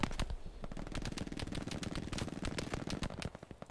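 Sustained machine gun fire rattles in fast, even bursts in the video game Hell Let Loose, moderately distant and fairly quiet, running almost continuously before tapering off at the end.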